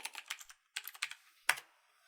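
Someone types on a computer keyboard in short quick bursts of crisp key clicks, close and clear, with brief pauses between the runs and one sharper keystroke near the end.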